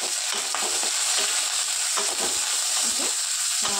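Panch phoron spices sizzle steadily in hot oil in a wok, a bright continuous hiss with quick spoon scrapes and clinks running through it, close and loud with no talking.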